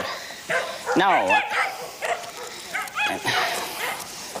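A dog gives a few yipping, whiny barks and yelps, close by, mixed with people talking.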